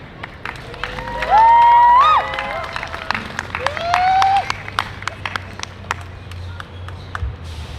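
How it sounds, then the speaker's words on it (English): Listeners at a speaking event applaud and cheer, with scattered claps, two loud rising whistles and a low murmur of voices, before the clapping thins out toward the end. "Big round of applause once again for Dean Serenilio, everyone."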